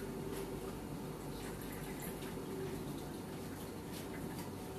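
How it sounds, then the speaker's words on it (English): Water running from a tap or being poured into a container to thin homemade pancake batter, a steady continuous splashing flow with a low hum underneath, no talking. "So I'm just going to get some water."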